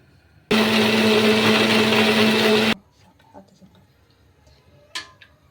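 A mixer grinder blends tomatoes and sambar masala for mutton curry, a loud steady whirring roar lasting about two seconds before cutting off abruptly, then quiet kitchen clinks.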